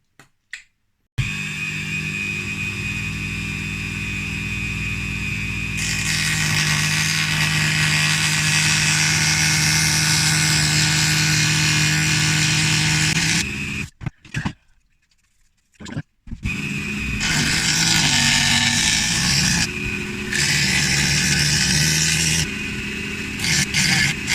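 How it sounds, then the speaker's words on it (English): A handheld Dremel rotary tool whines steadily and loudly as it cuts panel lines into a steampunk jetpack prop. The tone shifts as the bit bites, and there are brief stops and restarts, including one clear pause midway. "So I'm going to grab my Dremel and get on with that now."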